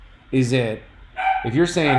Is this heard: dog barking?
yes